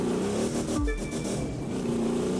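A car being driven gives off a steady engine hum with a brief dip and surge in the middle, close and continuous, with no talk.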